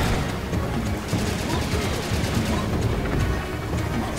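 Rapid gunfire in the video game Serious Sam 2, a dense continuous barrage of shots with booming impacts that stays loud throughout.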